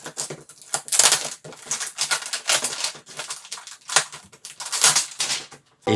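Packaging of an Asus ROG Zephyrus 14 laptop is unwrapped up close, giving repeated crinkling, tearing and rustling bursts in an uneven rhythm with short pauses between them.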